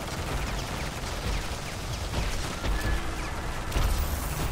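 Shotgun blasts in Modern Warfare 3 Zombies, a few heavy booms spaced apart amid constant game din and clatter, close and moderately loud.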